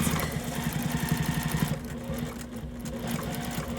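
A sewing machine runs close and steady while stitching binding onto a quilt, with a rapid rhythmic whir that slows and drops off partway through, then continues more quietly.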